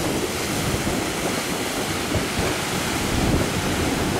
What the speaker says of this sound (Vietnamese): Hiện giờ nó gặp một cơn sóng rất là dữ dội.